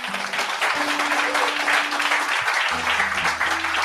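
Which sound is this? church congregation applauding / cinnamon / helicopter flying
church congregation applauding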